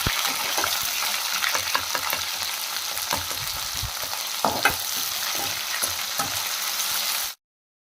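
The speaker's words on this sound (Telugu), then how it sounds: "ఒక టేబుల్ స్పూన్ అల్లం వెల్లుల్లి పేస్ట్, పచ్చివాసన పోయే వరకు అయితే కలిపెట్టుకోవాలి" Ginger garlic paste with curry leaves frying in a pan, stirred continuously: a steady loud sizzle with irregular scraping and clinking of the spoon against the pan, ending abruptly.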